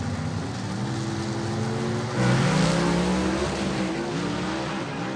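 A gasser hot rod in a drag race launches and pulls hard through three gears at a dragstrip, the engine roaring loud and steady with a surge in pitch midway through the run.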